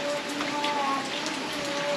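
Steady rain falls in a continuous dense hiss, loud and close, with a faint tonal hum running underneath and no pauses.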